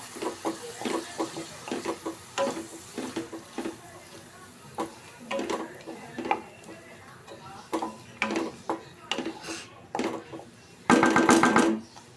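Tomato puree and masala frying in oil for a Malvani prawn curry, with soft steady sizzling under repeated spoon stirs and scrapes, ending in a louder burst of crackling.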